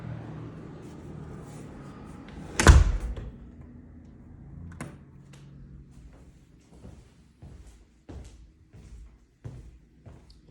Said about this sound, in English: And you can test this door.